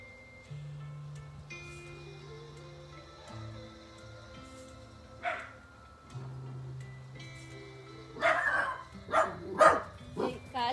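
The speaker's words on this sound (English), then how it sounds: "What you barking about?" A dog barks in a short cluster of sharp yips near the end, fairly close, after a quiet stretch with a faint sustained tone in the background.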